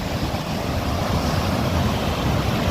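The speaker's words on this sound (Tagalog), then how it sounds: "lalo pang lumaki ang alon at lumakas pa ang habagat" Continuous rushing wind and crashing surf from strong monsoon wind and rising waves, loud and unbroken, with heavy gusts buffeting the microphone throughout.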